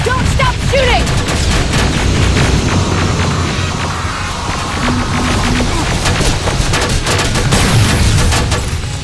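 Dense, continuous gunfire from the Terminator: Resistance video game fills the scene, with rapid automatic bursts, heavy booms and a low rumble layered together at high volume, and a few shouted voices mixed in.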